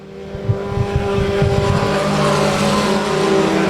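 Race cars roar around the Rose Bowl Speedway oval, a loud sustained engine drone swelling steadily as the pack approaches.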